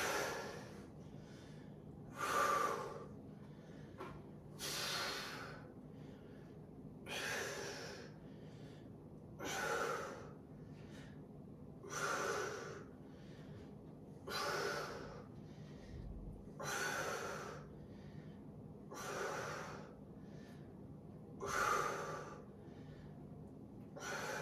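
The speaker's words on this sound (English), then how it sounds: "Exhaling as you come up." A person doing a dumbbell workout exhales heavily on each rep, about a dozen forceful breaths at a steady rhythm, close and clear with no speech over them.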